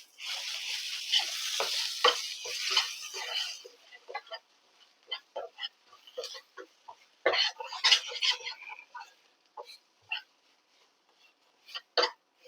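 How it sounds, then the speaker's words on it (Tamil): Spicy kozhukattai filling with green chilli and curry leaves is stirred in a heavy pan. A short sizzle opens, then scattered scraping strokes and clinks arrive in uneven bursts with quiet gaps, close and fairly faint. "அதனால இது பூர்ணம் வர வரைக்கும் கிளற வேண்டியதான்."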